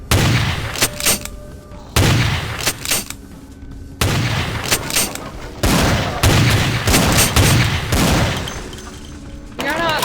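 Enemy gunfire in the video game Vampire: The Masquerade – Bloodlines comes in loud repeated bursts of shots and booms, close and punchy, pausing briefly between volleys, with a voice talking over parts of it.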